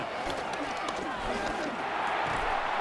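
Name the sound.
stadium crowd noise in Madden NFL 26 video game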